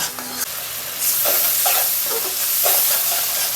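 Spice masala cooking down in oil in a pan for a koi fish curry, a loud, steady sizzle with repeated stirring scrapes, close and continuous with no talking.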